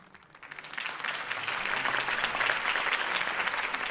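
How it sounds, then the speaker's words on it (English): A crowd breaks into applause, swelling within the first half second and holding as steady, dense clapping, in the video game Batman: The Telltale Series. "could have heard that applause"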